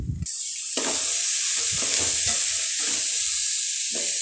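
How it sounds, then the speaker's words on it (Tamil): Finely chopped beetroot tipped into a pan of softened onions hisses into a loud, steady sizzle, with scraping stir strokes repeating close by. "இப்போ பொடி பொடியாக வெட்டி வச்ச பீட்ரூட்டை உள்ளே போட்டுடலாம்."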